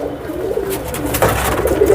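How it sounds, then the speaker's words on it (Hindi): Ghaziabad Nisavre pigeons, a fast-flying breed, coo in soft, rolling throaty calls close by, several overlapping pulses over a steady background with no talk. "ये बहुत तेज़ फ्लाइंग वाले कबूतर हैं दोस्तों, और इन्हें गाज़ियाबाद वाले निसावरे कबूतर कहा जाता है"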